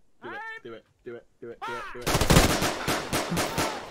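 In a military video game, a firing squad executes a prisoner. A short run of clipped, spoken commands is followed by a loud, dense burst of rifle fire that rolls on for about two seconds.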